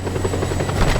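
Helicopter rotor drone from the Just Cause 2 video game, a steady buzzing thrum that holds loud and continuous with no talk over it.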